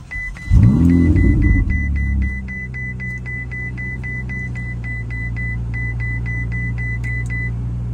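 A 2017 Ferrari 488 GTB fires up with a loud, sharp rising rev, then settles into a deep, steady idle while a repeating electronic beep chimes over it.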